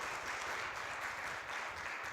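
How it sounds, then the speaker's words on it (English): An audience applauds after a climate coverage award presentation at Regis University, a steady, even wash of many hands clapping at moderate distance, sustained throughout without a break and with no voices over it. "can we have a round of applause for that great presentation?"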